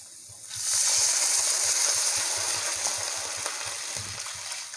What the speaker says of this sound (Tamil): அரை லிட்டர் தண்ணி சேர்க்க போகிறோம்.